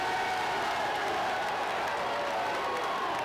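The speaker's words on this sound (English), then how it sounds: "That'll bring the crowd to their feet." Basketball crowd in an arena, Drexel versus ACU, cheering and applauding steadily in a dense, continuous roar after an alley-oop.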